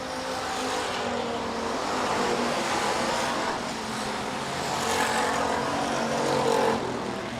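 Sportsman stock cars race in a final heat at Rapid Speedway, a dense, steady roar of engines with swelling passes that continues without a break for several seconds.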